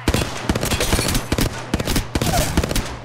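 Rapid gunfire from Apex Legends ranked play, loud bursts of automatic shots in quick clusters with brief gaps, close and punchy throughout.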